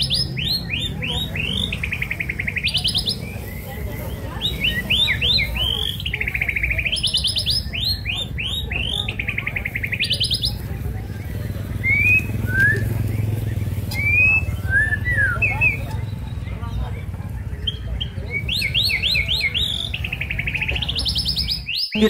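Magpie robin songbirds compete at a bird-singing contest in the Griya Mulia housing estate in Palembang, giving bright, repeated whistled phrases in bursts over a constant low rumble of crowd and outdoor noise.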